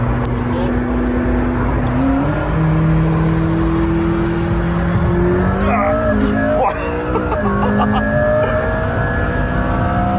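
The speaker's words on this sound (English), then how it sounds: "The car is so loud already just by rolling" A powerful McLaren P1 engine drones and climbs in pitch as it accelerates at high speed on the Autobahn, with shifts in tone, loud and close from inside the car.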